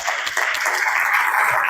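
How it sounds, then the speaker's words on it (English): Audience applause at the end of a talk on AI, dense and steady clapping throughout, with no voices over it. "Give yourself a hand of applause."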